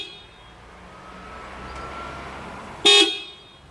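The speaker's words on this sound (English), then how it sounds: "I'm going to test the horn of this Subaru Forester." A 2022 Subaru Forester car horn gives one short, loud honk near the end, following a few seconds of quiet idling ambience.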